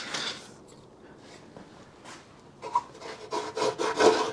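Rusty bolt being worked out of the swing arm of a Yamaha 100 Trailmaster motorcycle, a close, scraping metallic grind in short bursts that grows louder and rougher toward the end, no speech over it.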